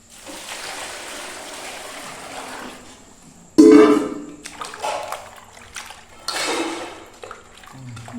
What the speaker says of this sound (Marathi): आता याच्यात पाणी टाकायचं.